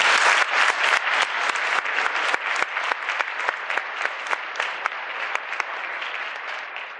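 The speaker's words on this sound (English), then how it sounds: "Please give him a round of applause" A school audience in Birmingham gives a superintendent a round of applause: steady, fairly close clapping from a sizable crowd, sustained for several seconds before gradually thinning toward the end.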